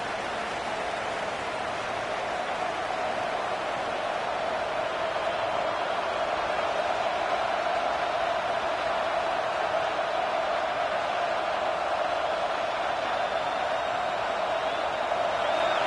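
Steady roar of a stadium crowd in the College Football 26 video game during a late first-and-goal situation, a continuous dense wash of cheering that holds loud and unbroken throughout with no clear talk over it.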